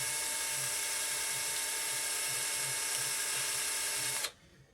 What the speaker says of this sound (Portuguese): Coloco na parafusadeira e aí venho fazendo isso aqui